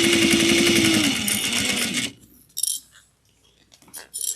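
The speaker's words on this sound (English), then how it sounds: "bring it to the machine and top stitch it this way." A sewing machine top-stitches fabric for a mini holiday stocking, running as a loud, steady mechanical whir for about two seconds before it stops, followed by a few faint clicks and small handling sounds.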